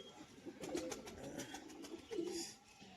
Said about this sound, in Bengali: পুরো একজোড়া সেটিং পায়রা